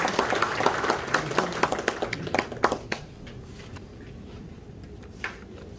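Audience applause at an automobile industry anniversary ceremony in a hotel ballroom, a dense burst of many hands clapping for about three seconds that quickly fades, leaving a quiet room with a few scattered claps.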